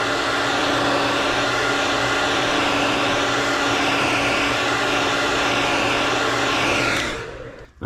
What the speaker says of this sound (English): So we're gonna heat set this one more time.